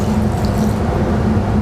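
White balsamic vinegar poured over apricots in a bowl, a steady close liquid trickle and splash running unbroken through the short moment with no talking.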